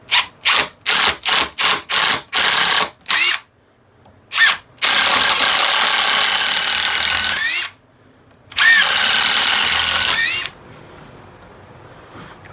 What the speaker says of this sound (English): gonna drill it out, see if I can.